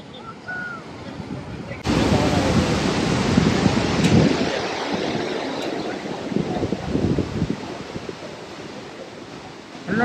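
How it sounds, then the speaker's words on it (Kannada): Gaganachukki waterfall plunges from about 90 feet, a loud, continuous roaring wash of falling water that swells in suddenly and holds steady, with faint voices now and then. "ಸುಮಾರು 90 ಅಡಿ ಎತ್ತರದಿಂದ ಬೀಳ್ತಿರುವಂತ ಜಲಪಾತ ಇದು, ಗಗನ ಚುಕ್ಕಿ."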